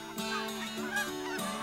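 Canada geese honk loudly and close overhead during a Saskatchewan hunt, several overlapping nasal calls in quick succession.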